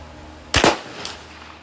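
A single sharp crack from a .22 rifle firing SK Rifle Match ammunition at a 100-yard range, loud and close, followed by a short fading echo.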